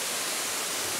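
A waterfall along a forest trail in Soberanía National Park, Panama, roaring as a steady, dense rush of falling water close by, with no voices.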